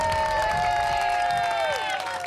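Crowd cheering for ninja competitor Kacy Catanzaro on the American Ninja Warrior course, a loud sustained roar with a long whistle-like tone over it, tapering slightly at the end.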